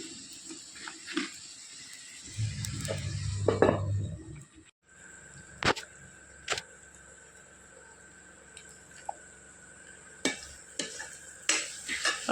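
A spoon stirs and scrapes in a pan where browned onions cook with tomato, green chili and curry leaves for a chicken fry, with a brief low sizzle and scattered clinks in a quiet kitchen.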